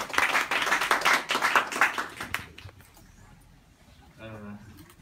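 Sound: audience applause welcoming a speaker

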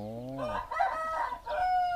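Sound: fighting cock crowing

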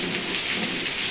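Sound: rain falling

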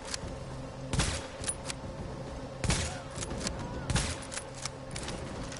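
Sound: sniper rifle gunshots in the video game The Division

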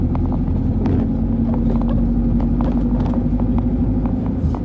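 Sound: truck driving home empty on road

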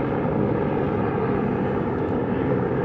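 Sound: stock Ford Maverick Lariat racing off-road

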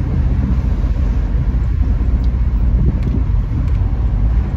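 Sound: Triumph Stag car engine burbling

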